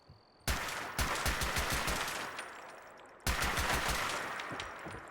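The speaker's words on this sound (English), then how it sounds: "Let's see if we can shoot the tree through the hole." Automatic gunfire in Fallout 76 shoots through gaps in a wall: a long rapid burst of shots, a brief pause, then a second burst, loud and close with no speech.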